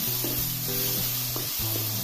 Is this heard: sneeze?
no